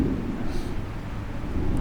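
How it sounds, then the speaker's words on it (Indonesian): A low, continuous rumble of distant thunder rolls on throughout, with no voices over it. "sebagian sahabat Nabi kalau mendengar guntur begini"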